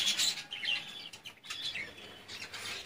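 A pair of caged pet birds give quick, high chirps and tweets in close, uneven bursts, with some fluttering between calls.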